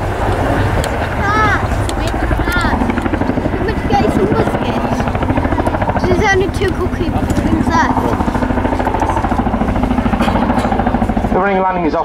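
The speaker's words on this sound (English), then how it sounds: "come in for a running landing, something that can only be done by the Chinook and other tandem rotor aircraft" A Chinook tandem-rotor helicopter makes a running landing at an RAF Waddington air display, its loud, rhythmic rotor thudding and engine roar continuous and close throughout, with a voice commentating over it.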